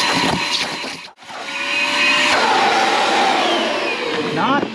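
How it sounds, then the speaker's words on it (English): A vacuum cleaner runs loud and steady while sucking debris off a car's leather seats, its whine cutting out briefly, then roaring back with rising, shifting pitch as the nozzle moves across the upholstery. "we're gonna vacuum all that up and then we can get down to business"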